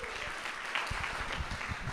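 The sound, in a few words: audience applause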